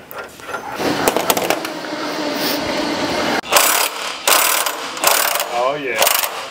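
A ratchet loosens the sway bar on a new Ineos Grenadier during a suspension upgrade, giving repeated bursts of fast metallic clicking between short pauses, close and clear with no talk.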